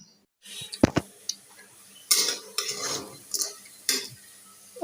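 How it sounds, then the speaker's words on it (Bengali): Lentil fritters made from ground pea and red lentil paste fry in hot oil, giving a faint broadband sizzle, with a few sharp utensil clicks and taps near the start and several louder bursts of spatter and stirring scrapes. "দেখো ডাউলের বড়া হচ্ছে গো লাল লাল করে ডাউলের বড়া"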